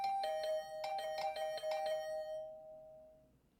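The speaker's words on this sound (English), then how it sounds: "The usual morning announcement was drowned out by the sound of my doorbell ringing over and over." A doorbell in the video game The Hundred Line rings over and over in quick bright chimes, then a final tone fades out, clear and alone.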